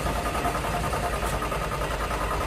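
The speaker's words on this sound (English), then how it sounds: "Ah, crap, the engine died." In a Mario road-trip game scene, a car engine runs with a steady, rough, loud idle rumble throughout, with no clear point where it sputters or cuts out, and no talk over it.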